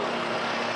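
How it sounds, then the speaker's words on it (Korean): A Genesis car with the VIP package idling, a steady broadband engine hum held close and fairly loud with no voices. "자 엔진 소리 한번 들려드릴까요"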